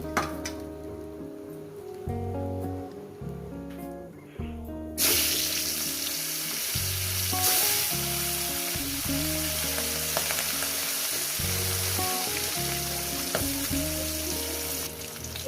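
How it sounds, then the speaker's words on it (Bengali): Katla fish frying in hot oil, a loud, steady, close sizzle that bursts in after a quieter start and crackles continuously to the end, with low tonal background sounds beneath. "বেশি করে করে ভাজবো"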